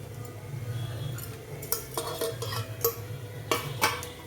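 Cloves, cinnamon sticks and cashews dry-roasting in a pan for a chicken bone curry, with scraping stirs and light clinks of a utensil against the pan over a low steady hum, sharper knocks toward the end.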